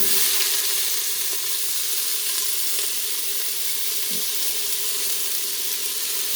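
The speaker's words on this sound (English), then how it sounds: "I squirted some avocado oil in the cooker. It's on saute." Green pepper and bay leaves sauté in avocado oil in a pressure cooker, giving a steady, even hiss and sizzle that holds throughout at moderate loudness. No voices are heard.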